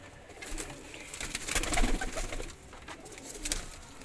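Pigeons coo softly nearby, a few low throaty rolling calls against faint background noise, with no talk.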